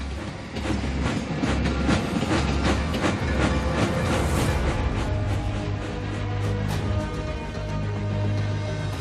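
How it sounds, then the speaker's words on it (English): A train moving through a mountain pass on a Canadian railway, a loud, close rumble with rhythmic clickety-clack from the wheels and a sustained low hum, steady throughout with no talking. "His next train through the pass triumphantly arrives, safely."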